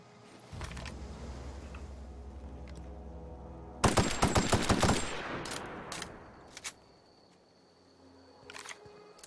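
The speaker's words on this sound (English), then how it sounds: "Let's stick with the assault rifle for the moment" Assault rifle fire in the video game The Outer Worlds: a loud, rapid burst of gunshots for about a second, followed by a few isolated sharp shots spaced apart, with no talking.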